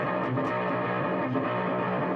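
Distortion pedal on a guitar pedalboard, switched on and filling the space with a dense, steady, noisy buzzing hum with layered tones, loud and continuous with no talking.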